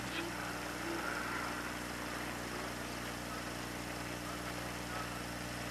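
Jet-powered drag racer fitted with an F-104 Starfighter engine at a 1970 Bristol drag race, a steady loud broadband roar with low droning engine hum held throughout, no pauses.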